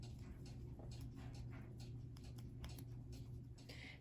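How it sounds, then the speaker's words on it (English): Fabric scissors trim off excess fabric for bunny napkin rings, giving faint, quick repeated snips and ticks over a steady low background hum, close by with no talking. "take my fabric scissors and just trim off the extra so that way they come together perfectly"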